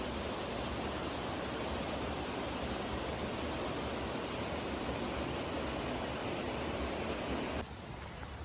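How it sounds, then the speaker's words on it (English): A waterfall beside a mountain hiking trail gives a steady, loud, broadband rush of falling water that holds constant before abruptly dropping lower near the end. "We just passed the second waterfall of the day"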